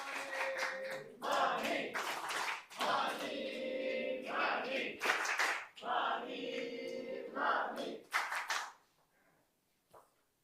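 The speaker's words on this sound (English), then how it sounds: "Thank you so much for the cheer once again" A meeting audience claps and chants together in a rhythmic, repeated pattern, loud and close, before falling abruptly quiet.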